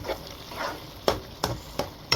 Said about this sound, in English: we're gonna fry it till the sour taste is out